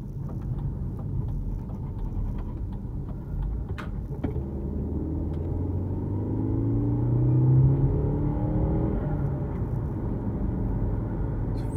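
A 2008 Audi A4 2.0T S Line drives along, its engine a steady low rumble that swells as it pulls away with a rising tone, then settles back to an even drone.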